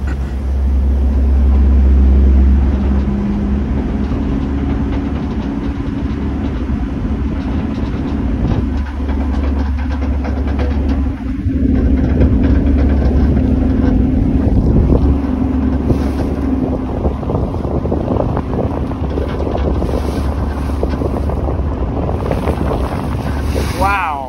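Aboard the Halifax Transit ferry Viola Desmond underway, a constant low engine drone and rumble mixes with wind buffeting the microphone and water wash. A few faint voices are heard in the background.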